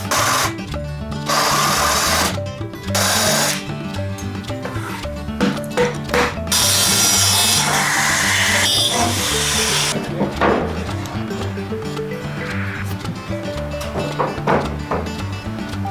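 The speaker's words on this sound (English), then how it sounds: "Now we'll drill it out with this Forstner bit so that we can clear those bolts" Forstner bit drilling into wood to clear bolts while building a 1948 GMC pickup: steady loud whirring drill with bursts of grinding and chattering as the bit cuts, pausing briefly between passes.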